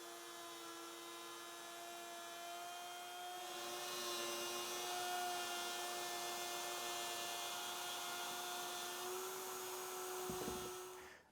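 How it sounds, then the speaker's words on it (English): Router cutting a circle in wood, guided on a trammel, gives a high steady whine that swells as the bit bites in and then stops abruptly near the end, with no talking. "And remember when you're routing in a circle on the outside, you want to stay in a counterclockwise direction."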